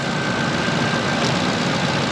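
A car engine idles with its alternator disconnected, giving a steady, even mechanical hum of moderate loudness that continues unchanged throughout, with no talking.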